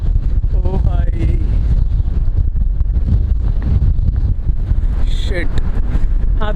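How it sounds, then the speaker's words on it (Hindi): Strong wind gusts outdoors on a cloudy, cold day in Canada, a steady loud rush of buffeting against the microphone throughout, with a voice speaking briefly over it. "बहुत तगड़ी हवा चल रही है"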